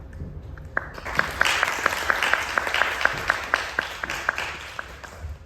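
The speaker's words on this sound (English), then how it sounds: "Again, some warm applause." Audience applause at the close of a lecture on AI, power and governance, a dense wash of clapping that swells quickly and holds steady with sharp individual claps standing out, fairly close and without talk.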